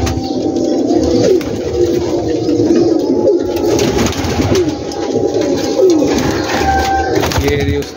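Many pigeons on a large Gujranwala rooftop loft keep up a loud, overlapping cooing chorus, with individual rolling coos standing out close by over the steady flock murmur.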